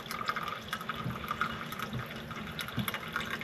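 Liquid pours from a kettle spout onto a cloth placed underneath, a soft steady trickle with faint drips at close range, alone without talk.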